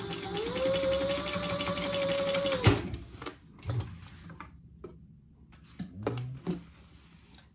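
A sewing machine runs a basting seam at 1/8 inch on a wristlet, a steady whirring stitch for a few seconds that stops abruptly, followed by scattered clicks and fabric handling.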